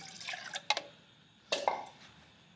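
Water splashes and trickles into a pot on a camping stove in two short pours, fairly close and quiet, with no talking.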